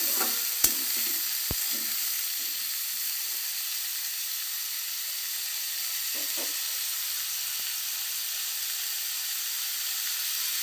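Bitter gourd, potato and fish for a Bengali fish curry fry in a pan with a steady, close sizzle and hiss, broken by a couple of sharp utensil clicks early on, with no talking.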